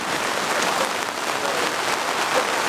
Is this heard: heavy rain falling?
yes